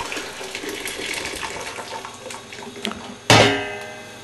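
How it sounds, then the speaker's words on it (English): Boiling water splashes and trickles steadily into a large pot for home brewing for several seconds, then a louder gush hits near the end and slowly fades as the pot fills. "Pour your boiling water into a large pot"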